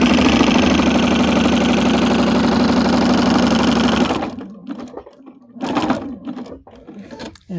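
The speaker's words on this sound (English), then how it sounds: "All we're going to do is sew from one side to the other. It's all straight stitching." A sewing machine with a walking foot runs a continuous loud straight stitch across a quilt, then stops abruptly, followed by a few short bursts of stitching and fabric handling.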